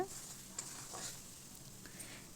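Amla pickle stirred and cooked in sticky jaggery syrup, giving a soft, low-level simmering sizzle with faint intermittent scraping of the spoon, steady and close, with no talking.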